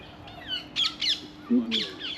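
A bird squawks outdoors in a rookery park in London on a wet autumn evening, giving a few harsh nearby calls in quick bursts over quiet background ambience, with a short low voice partway through.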